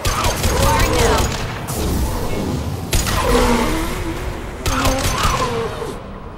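Mass Effect 2 combat on a derelict Reaper: loud bursts of weapon fire and booming impacts come in repeated waves over a dense rumbling background, with a voice occasionally heard in the mix.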